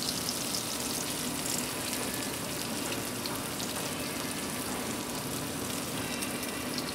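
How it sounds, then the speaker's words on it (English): Steady, dense sizzling of swordfish pan frying, a continuous crackle with no talking over it. "Because we're pan frying this"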